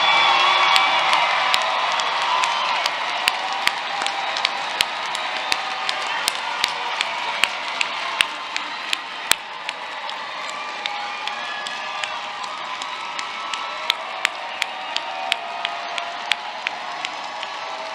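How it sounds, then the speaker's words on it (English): The audience at Prairie View A&M University's spring commencement applauds the graduating class in a long, steady roar of clapping, with cheers, whoops and sharp nearby claps over a broad crowd wash. "give this graduating class one final celebratory"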